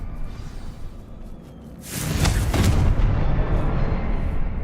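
Confringo blasting spell in the video game Hogwarts Legacy, a loud booming burst that rises about two seconds in and rolls on as a sustained rumbling roar over a steady background.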